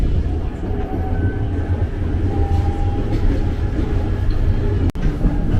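Inside a KRL commuter train rolling toward Matraman station, a steady low rumble of wheels and carriage noise fills the cabin, with a brief sharp click near the end.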